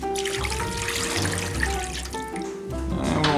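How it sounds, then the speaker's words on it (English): Water pours steadily onto a rack of BBQ ribs coated in dry rub, a loud, close, continuous splashing trickle like a running tap with no talk over it. "Now we're gonna put a little bit of water."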